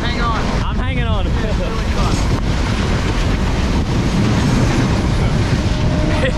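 Loud, steady rush of wind buffeting the microphone over the low rumble and clatter of a moving Sri Lankan train, heard by a rider hanging out the open side of a carriage; a brief whistle-like tone and some voices near the start.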